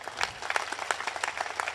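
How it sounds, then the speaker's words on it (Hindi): Audience applause at a Hindi poetry gathering, greeting an editor's birthday: a dense burst of many hands clapping, fairly close and steady for its short length, with no talk over it. "हम सब शुभकामनाओं की एक बार जोरदार तालियां देकर"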